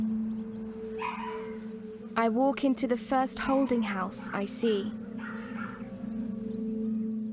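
Dogs barking and yipping inside a crowded dog holding house of about 200 dogs, a burst of several close barks in the middle under a voice, with steady background noise.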